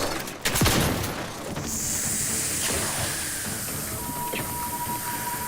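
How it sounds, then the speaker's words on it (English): Enemy gunfire in the video game The Outer Worlds 2: a dense, hissing barrage of shots with sharp cracks near the start, then a continuous noisy rattle of fire and game effects running throughout. "This thing is shooting at me."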